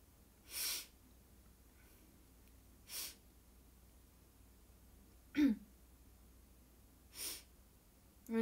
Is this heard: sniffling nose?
yes